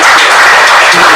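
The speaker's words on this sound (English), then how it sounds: "Y'all give him a round of applause." An audience at a book launch applauds, a dense, loud wash of clapping that fills the moment steadily without pause.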